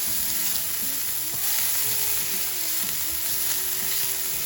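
Steady, close sizzling of garlic and onions frying in a hot skillet, a continuous crackling hiss with faint clatter and background voices.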